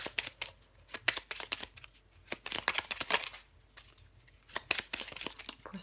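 Tarot cards being shuffled by hand, a steady run of crisp riffling and flicking bursts close by, with no talk over them.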